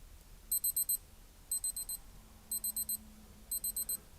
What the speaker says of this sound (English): And I must say, it is not the loudest of alarms